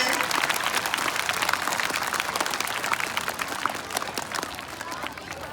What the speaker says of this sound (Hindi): जोरदार तालियां बजाओ मैम के लिए, सर के लिए, स्कूल के लिए